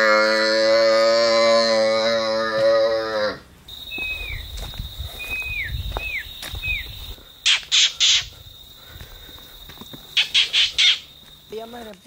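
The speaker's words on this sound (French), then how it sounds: "Ce sont les Cigua Palmera, c'est l'oiseau national de la République dominicaine" Palmchats, the Dominican Republic's national bird, give short squawking calls in a few bursts, some sharp and clustered, after a loud sustained tone, heard at moderate distance.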